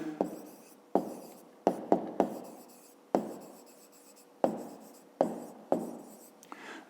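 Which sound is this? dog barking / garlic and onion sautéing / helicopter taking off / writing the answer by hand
writing the answer by hand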